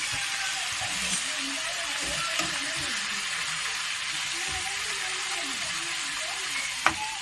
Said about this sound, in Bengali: তেলটা বেশ ভালোই গরম হয়ে গেছে। এবারে আমি আলুগুলো দিয়ে দেবো।